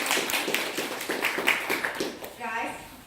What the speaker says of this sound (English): let's applaud first of all